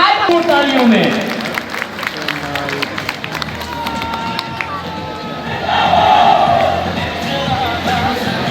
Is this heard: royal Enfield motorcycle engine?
no